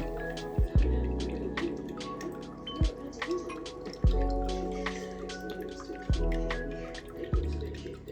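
Water drips and splashes in a no-filter paludarium with a running waterfall and living background, a glass frog enclosure; irregular, fairly close drops land over a steady low trickle, with no talking.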